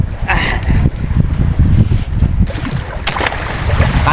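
A small fishing boat's engine keeps running out on the open sea, a loud steady low rumble mixed with wind buffeting the microphone and splashing water throughout.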